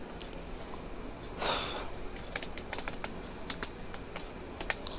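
Rapid, irregular clicks of keys being struck on a computer keyboard, close and fairly crisp, with a brief sniff near the start.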